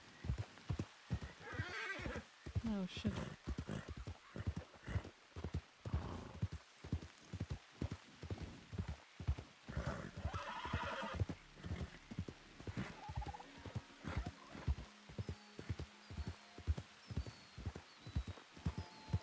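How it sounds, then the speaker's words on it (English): Horse hooves clip-clop in a steady rhythmic gait while riding toward Saint Denis in a Western video game, with occasional whinnies and someone speaking briefly over the hoofbeats. "I'm gonna take this horse now to Saint Denis."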